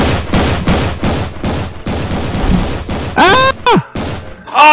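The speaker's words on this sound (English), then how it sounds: "come on, shoot him. Shoot him, shoot this guy." Rapid bursts of gunfire from a Roblox game, a long run of loud, closely spaced shots and volleys that end in a few scattered blasts mixed with crashing and mechanical clatter.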